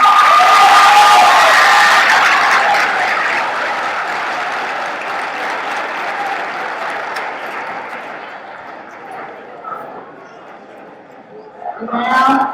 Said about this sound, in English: please turn around and applaud the people that got you here